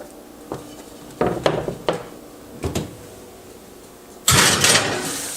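An oven door is worked as a tray of Brussels sprouts goes in: a few wooden-sounding knocks and clunks, then a louder rattling thud and a brief clatter near the end.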